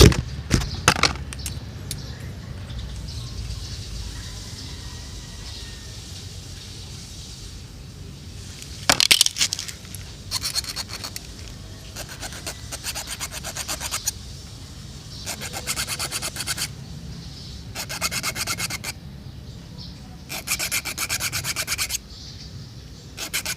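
Cutting a 1.5 cm piece off a metal antenna element for a PO-150 antenna, heard as repeated rough rubbing and scraping strokes in bursts with a few sharper clicks, close up and with no talk.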